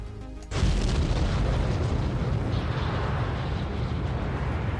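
A refueler rocket launches in Kerbal Space Program, starting with a sudden loud ignition boom and then settling into a dense, steady roaring rumble that keeps going.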